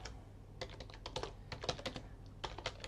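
Fingers tap out quick, uneven bursts of keystrokes on a computer keyboard, crisp clicks close to the mic over a low steady hum.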